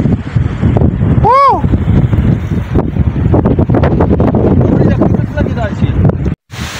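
Strong, gusty wind on the hilltop of Ilyasi Hills in Abbottabad roars steadily across the microphone, loud and buffeting, while someone talks over it and the wind cuts out abruptly just before the end.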